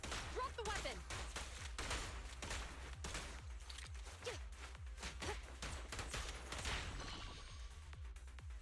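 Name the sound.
shotgun shells fired in Zenless Zone Zero video game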